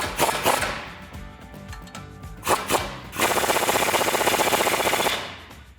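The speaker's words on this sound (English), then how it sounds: "Okay, now I'm gonna go ahead and tighten these bolts up to get the entire assembly seated here." Nuts on a 1999-2006 Silverado/Sierra leveling lift suspension assembly are run down with a 15/16 socket, with short bursts of rattling impact-gun hammering at first, then a longer sustained rapid chatter near the end.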